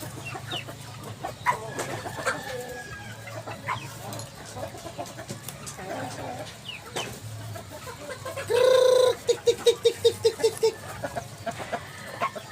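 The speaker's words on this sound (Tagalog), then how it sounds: "Andito ako yung nagpapakain ng mga manok, diba?" Chickens cluck and chatter nearby in a busy flock, with one hen letting out a loud rhythmic string of squawks near the end.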